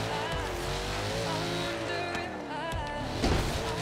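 A race car in Forza Horizon 3 runs at full throttle, its engine note climbing and falling through gear changes with brief tire squeal, loud and close for the whole stretch.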